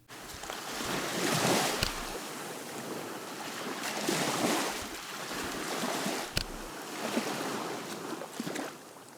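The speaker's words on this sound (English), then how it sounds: "The background sound for this puzzle is very beach-like with waves lapping at the shore." Beach ambience of waves lapping at the shore in the Papercut Art Gallery puzzle game, with soft swells of washing surf rising and falling several times, calm and steady.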